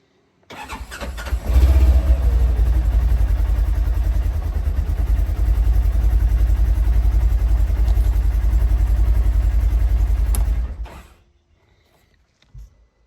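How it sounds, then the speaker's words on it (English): A Polaris Xpedition UTV engine cranks and starts, then idles with a steady, loud rumble for several seconds before shutting off into near silence. "I'm going to go ahead and start the engine, let it run for about 30 seconds"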